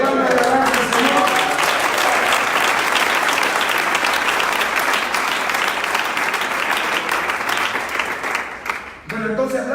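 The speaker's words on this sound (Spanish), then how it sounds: "le dé palmas de la mano al Señor." Church congregation clapping hands in praise during a pastor's Bible study, a dense sustained burst of applause lasting most of the moment before fading out near the end.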